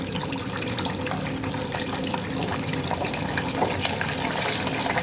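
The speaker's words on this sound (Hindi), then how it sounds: "अभी इसको चिकन को डाल के फ्राई कर लेंगे।" Chicken frying in very hot cooking oil, giving a dense, continuous, close-up sizzle and bubbling hiss with no pauses.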